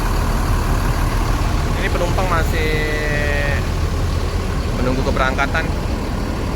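A Mercedes-Benz 1626 bus engine idles with its exhaust close by, a steady low drone that runs continuously while someone talks over it and a brief hiss and beeping tones rise in the background.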